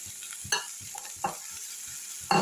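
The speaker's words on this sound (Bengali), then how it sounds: "এবার অল্প একটু জল দিয়ে আমি কষিয়ে নেবো" Spice paste with chilli and ginger paste is stir-fried in a pan for a snail curry, bursts of sizzling and scraping stirring strokes repeating at uneven intervals over a steady frying hiss, close and fairly quiet.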